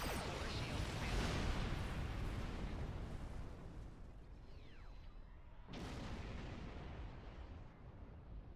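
Explosions in the space game Star Trek Online, set in the Badlands, rumble as a continuous roaring barrage with a sharp fresh blast midway, faint and distant-sounding, with occasional voice beneath.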